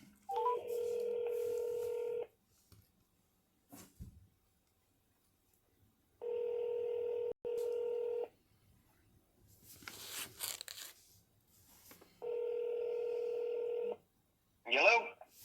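A phone call being placed produces three long, even electronic tone bursts a few seconds apart, with faint clicks and handling noise in the gaps.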